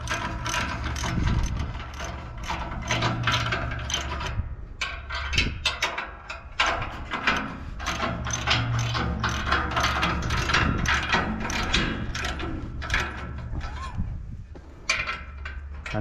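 Bolts are tightened on a high-wheel disc plough used for cassava ridging, a run of rapid ratchet clicks in repeated bursts, close and fairly loud, with a faint engine hum beneath.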